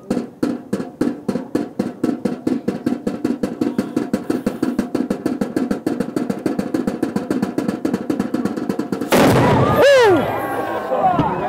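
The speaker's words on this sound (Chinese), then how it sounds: "在这个炮一声轰了这样子一声巨响之后呢，哇，内心震了一下，吓了一大跳" A ceremonial cannon fires in Havana: a long run of rapid, evenly spaced beats builds for several seconds before a single loud, close boom erupts and rings out.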